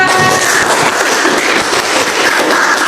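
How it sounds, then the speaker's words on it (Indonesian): Steady classroom audience applause fills the whole stretch, a dense wash of clapping at even loudness with no voices on top. "Beri tepuk tangan mereka."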